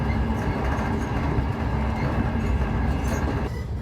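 A train rumbles through Termoli station in Italy with a steady, dense, loud roar and faint rattling that holds constant for several seconds, with no talk.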